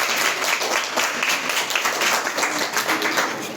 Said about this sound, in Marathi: कृपया टाळ्या वाजवून स्वागत करा